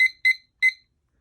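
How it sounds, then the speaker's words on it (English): A digital kitchen-style timer gives three sharp, clear beeps at uneven intervals as buttons are pressed to set it, with silence between each beep. "you're going to take your timer"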